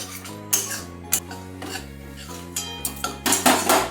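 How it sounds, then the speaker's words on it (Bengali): A spatula stirs egg through hot oil in a pan, making a run of short scraping and rasping strokes at an irregular rhythm, close by, over steady tonal background music. "ডিমটা আমি তেলের মধ্যে দিয়ে এইভাবে নাড়তে থাকবো"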